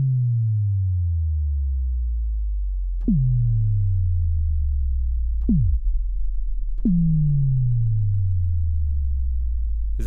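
Synthesized impact effects hit four times in an uneven rhythm. Each is a sharp attack that drops quickly in pitch and fades into a long, deep humming tail, all clean electronic tones with no voices.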